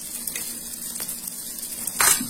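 A sweet moong dal and jaggery poli cooking in oil or ghee on a pan, a soft continuous sizzle with a few faint clicks and a brief louder hiss near the end.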